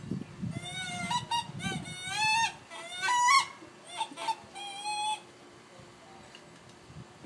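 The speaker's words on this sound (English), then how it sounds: "Showing my different kind of calls. The wood duck." A wood duck call is blown in a series of rising, squealing whistled notes, some short and clipped, others drawn out, close and fairly loud, with some low rustling and handling noise early on.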